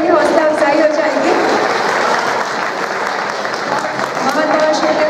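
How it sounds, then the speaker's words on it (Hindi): Loud applause from the audience at a poetry recital, a thick burst of clapping with some cheering that stays strong throughout and dips only briefly midway. "एक बार अगर जोरदार तालियां बजा देंगे तो मेरी हौसला अफजाई हो जाएगी।"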